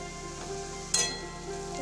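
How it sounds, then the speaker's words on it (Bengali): Onion, ginger and chicken sizzling softly in a pan, a low steady frying hiss with one brief sharper crackle or stir near the middle, and no voices. "এটা ভেজে নেব। ভাজা হয়ে যাক তারপরে দেখাচ্ছি।"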